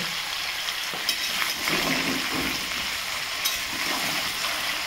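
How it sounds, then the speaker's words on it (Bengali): Mango pieces frying in oil for pickle give a loud, steady sizzle close up, with faint stirring scrapes and small pops over about five seconds. "2-3 মিনিট আমটা তেলে কষে দেব।"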